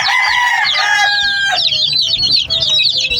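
Chickens and chicks in a coop, with hens clucking and crowing-like calls overlapping continuously at close range, busy and loud with no talking.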